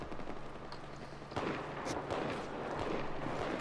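Gunfire in a first-person shooter video game, with a shotgun among the weapons, comes as sharp blasts that start around the middle and keep going over dense, continuous game noise.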